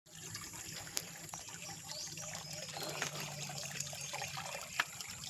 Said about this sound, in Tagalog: Tubig gikan dito.